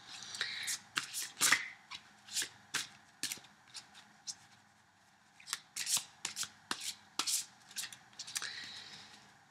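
Tarot cards riffled and shuffled by hand, a series of crisp, close flapping bursts in uneven rhythm with brief pauses between them, heard without talk.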